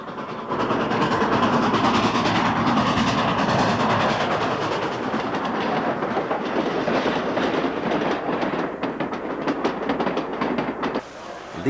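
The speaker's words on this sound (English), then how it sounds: "Here we see the first train coming around again, and you notice the train in the back slowing down" A model railroad train runs on its track at a model railroad show. A dense, busy mechanical whir gives way to a rhythmic clickety-clack of wheels over rail joints, close and continuous, with a brief whistle-like tone.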